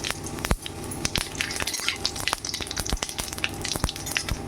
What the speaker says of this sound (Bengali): এবার আমি এর মধ্যে ফোড়নের জন্য নিয়েছিলাম দুটো শুকনো তেজপাতা আর কালো জিরে আমি তেলের মধ্যে দিয়ে দিলাম।